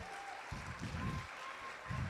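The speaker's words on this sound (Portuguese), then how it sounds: "Pode aplaudir." Church congregation clapping during a sermon, fairly faint, continuous applause with soft low thumps and a faint background voice.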